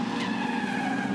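Race cars spin and skid at a 2016 Improved Production circuit race at Hidden Valley, a sustained loud tire squeal over roaring engines, close and continuous throughout.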